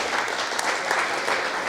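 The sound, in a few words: audience applause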